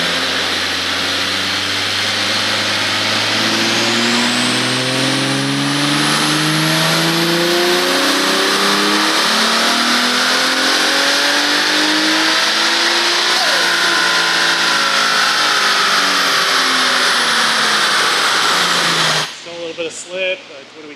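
A car on a dynamometer makes a final power pull, its engine revving hard and climbing through the gears at full load for nearly twenty seconds, loud and close, before cutting off abruptly.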